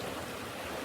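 Hot mineral water flows at a bath fountain in St Thomas, Jamaica, a steady close rushing splash filling the short moment without pause.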